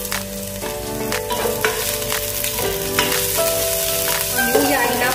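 Crushed ginger fries in a pan for sinigang na seabass, a loud continuous sizzle with repeated clinks and scrapes of stirring, close up, no talking.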